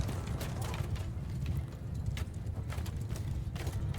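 Horse hooves clip-clop steadily in the medieval battle game Mount & Blade II Bannerlord, a rhythmic run of hoofbeats with a faint mechanical rattle underneath, heard on its own without speech.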